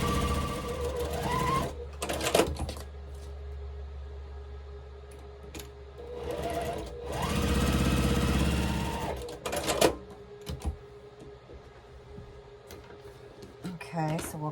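A sewing machine stitches a quilt block seam, running in several bursts of steady whirring a quarter inch from a drawn line, with pauses between runs and soft handling clatter.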